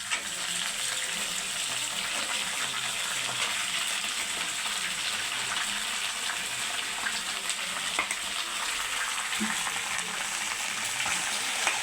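Okra (lady's finger) sizzles loudly and steadily as it fries in a pan and is stirred, with an even crackling hiss throughout and occasional faint scraping.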